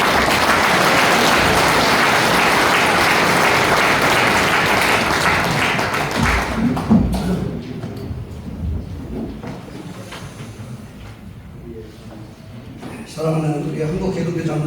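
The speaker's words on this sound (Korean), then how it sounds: "조인장님 오실 때 큰 박수로 환영하겠습니다" A large assembly at a church general meeting's opening worship service gives loud, sustained applause to welcome a speaker, the dense clapping lasting about six seconds and then fading into room noise, followed by a voice speaking.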